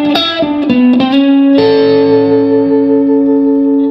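Electric guitar with effects plays a quick double stop slide lick, a few plucked notes followed by a sustained ringing chord that decays with reverb and echo.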